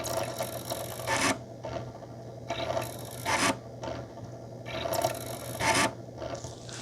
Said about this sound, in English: Man, this disk drive does not sound good.